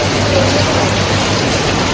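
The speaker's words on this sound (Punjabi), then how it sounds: "ਮੀਂਹ ਆ ਗਿਆ ਜੀ ਦੇਖ ਰਹੇ ਪਿੱਛੇ ਆਪਣੇ ਤੁਸੀਂ" Heavy rain pours down in a village, a dense, loud, unbroken hiss of falling water.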